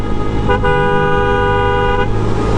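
A car horn blares in one sustained honk over the loud rumble of road traffic on the Dhaka–Chattogram highway.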